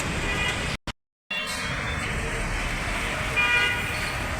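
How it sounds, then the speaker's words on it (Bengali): Motorcycles and other vehicles roll past on a busy road beside the Mohakhali flyover in Dhaka, a loud continuous traffic roar with a short horn toot, briefly cut to silence near the start. "তারপর হচ্ছে মোটর সাইকেল, বিভিন্ন ধরনের যানবাহন চলাচল করতেছে যানজট মুক্তভাবে।"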